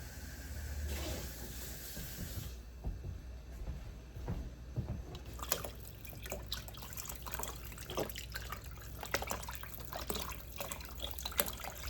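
Water pours and splashes into a pot of roast beef, with running, dripping liquid sounds close by for several seconds, followed by clinks and handling noises.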